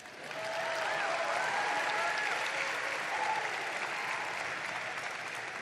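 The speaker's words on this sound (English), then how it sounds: "Can we get a quick round of applause for ChatGPT?" Audience applause at a business school precommencement ceremony, a large crowd clapping steadily and loudly after building up quickly, with no speech over it.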